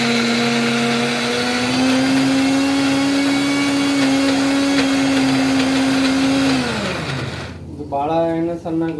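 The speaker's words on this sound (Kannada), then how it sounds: "ಈಗ ನಾವು ಗ್ರೈಂಡ್ ಮಾಡ್ತಾ ಇದ್ದೀವಿ." A kitchen mixer grinder grinds food with a loud, steady motor whine that holds for about six seconds and then winds down. A voice speaks briefly after it stops.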